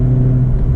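Honda Civic Type R engine in R mode, a loud steady low rumble from close by as the car accelerates, with no voices.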